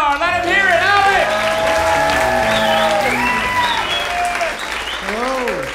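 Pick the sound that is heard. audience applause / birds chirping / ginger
audience applause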